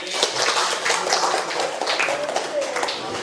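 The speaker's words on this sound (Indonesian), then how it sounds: "tepuk tangan untuk semuanya" A classroom of students claps together, a fairly brief burst of light, busy applause with some voices mixed in.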